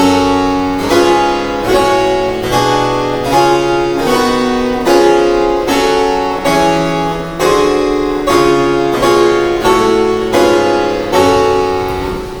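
A keyboard plays the rule of the octave in a minor key, a steady sequence of chords over a stepping bass line, each struck in an even rhythm with a bright, plucked harpsichord-like tone.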